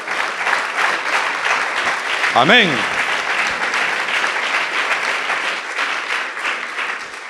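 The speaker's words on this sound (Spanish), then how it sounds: "hay aplausos con efecto retardado, pero no importa, como quiera tú estás aplaudiendo" A church congregation applauds after a sermon, a dense sustained round of clapping from many hands throughout, with a voice speaking briefly over it.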